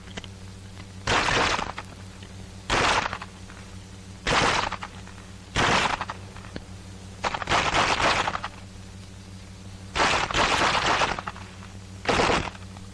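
Rifle fired from the hip in 1942 close-combat training: about eight loud, sharp bursts of gunfire come at regular intervals over a steady low hum from an old recording, and no one speaks.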